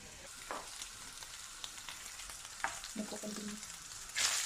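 Ground meat for lasagna sizzles softly in a pan while being stirred, with occasional scraping strokes and a brief louder hiss near the end.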